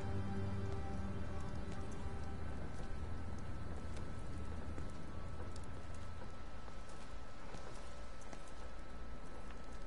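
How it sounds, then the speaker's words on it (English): Steady rain falls across an outdoor scene in the game Everybody's Gone to the Rapture, a dense continuous patter on surfaces with faint irregular clopping beneath it and no talk. "Stop raining."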